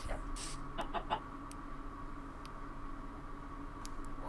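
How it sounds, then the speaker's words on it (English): Chickens in a video game give a few quick clucks near the start, then sparse faint ticks follow over a steady low hum of game ambience. "what happens if I kill a blue chicken?"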